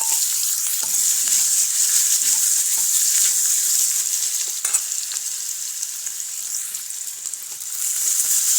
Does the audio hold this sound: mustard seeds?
yes